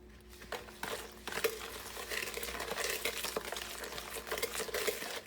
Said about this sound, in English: Add 1 egg and vanilla. And whisk that all together.